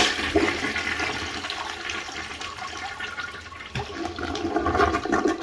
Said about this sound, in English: Okay, and now let's flush. First flush.